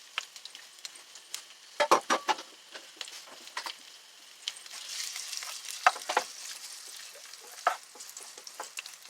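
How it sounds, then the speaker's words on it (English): Pork sizzling in hot canola oil in a frying pan, a steady crackling fry with sharper pops and light stirring clatter, close and moderately loud. "Okay, now that it's hot, I'm going to put my pork in there."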